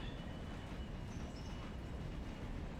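A train rolling on rails in the video game Railroader, a quiet low rumble of wheels with faint rail rattle and a brief high squeal, steady and subdued throughout.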